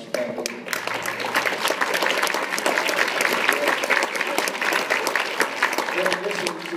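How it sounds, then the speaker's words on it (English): Audience at a university-level spring band concert applauds, sustained dense clapping filling the hall steadily for several seconds with a few louder claps standing out. "I'll wait there for applause and show you our large crowd."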